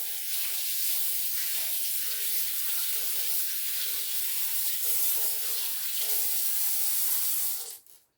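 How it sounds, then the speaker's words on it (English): Cherry tomatoes being washed under a running kitchen tap, a steady rushing stream of water hitting the sink and fruit for several seconds before it cuts off at the end. "I'm going to wash these up."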